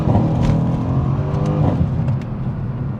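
A Mercedes-AMG C 63 S Cabriolet engine gives a loud, continuous rumbling exhaust note with gurgling texture, steady throughout with a slight swell midway, close by and without talk.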